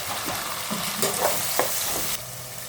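Field beans fry in a pan with tomato and salt, a steady close sizzle punctuated by several short spatula scrapes and stirs, dropping a little in level near the end.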